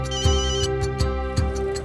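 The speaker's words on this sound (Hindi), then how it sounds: "जरूर माया का ही होगा। मैं ही फोन ही बंद कर देता हूँ।" A phone ringtone plays a loud, repeating electronic melody with steady tonal notes and regular pulses, close and continuous, with no voices over it.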